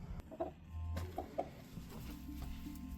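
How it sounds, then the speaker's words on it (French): Chickens in a henhouse give a few short, close clucks over low background rumble and shuffling, in a quiet room. "Alors, on est rendu dans le poulailler."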